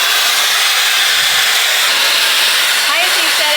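A hair dryer run at its highest heat and fastest speed gives a loud, steady broadband whoosh of rushing air that holds unbroken from start to finish.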